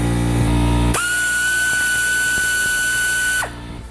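A power tool spins a 14 mm tensioner mount bolt loose on a 2006 Acura TL engine, a steady high whine that holds for about two and a half seconds and then cuts off, with a loud low hum around it.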